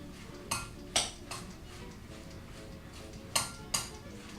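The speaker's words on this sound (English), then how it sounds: "grab a pair of tongs and begin to toss everything together in your bowl" Tongs tossing salad in a bowl, a few sharp clinks and scrapes of metal against the bowl at irregular intervals, quiet and close with no talking.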